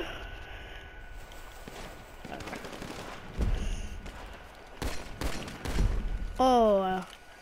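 Pistol shots in GTA 5 crack out as a few sharp bursts, one around the middle and a cluster near the end. A constant game background sits underneath and a voice speaks briefly.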